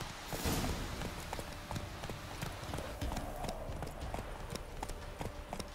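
Roach, a horse in The Witcher 3, gallops with steady, close clip-clopping hooves over a continuous ambient bed, a brief snort or whinny near the start, and no talking.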